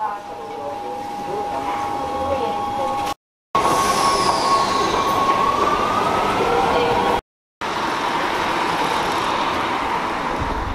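A Rome metro train heard from inside the carriage rumbles and rattles loudly, with squealing wheels and a rising tone as it moves, broken by a few abrupt gaps, and a person speaks over it.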